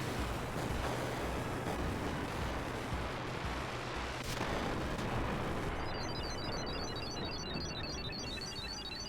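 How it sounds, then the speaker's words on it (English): An explosion in Final Fantasy 8 Remastered roars as a dense, loud, continuous blast with crackling bursts throughout, followed by a faint high chiming shimmer near the end. "he's exploding!"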